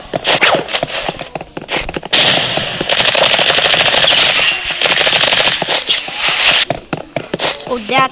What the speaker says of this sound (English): I actually got the Uzi now.